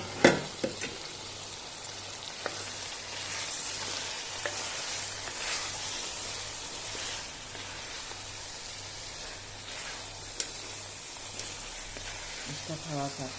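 Chicken pieces sizzle and fry steadily in a pot of oil for chicken soup, a continuous crackling hiss with occasional stirring knocks and faint background voices.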